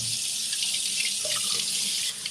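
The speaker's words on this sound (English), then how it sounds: "I'm just going to give it a quick rinse in the sink" A sink tap runs steadily as a poblano pepper is rinsed under the stream, close and constant, with slight splashing changes as the pepper moves under the water.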